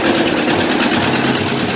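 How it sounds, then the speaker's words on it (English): An old Ford 600 tractor engine cranks and runs on a cold start, a steady, loud, rapid mechanical chatter throughout with a voice briefly over it. "Get the old Ford cranked up."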